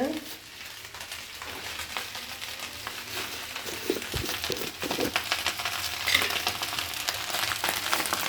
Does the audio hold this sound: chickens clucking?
no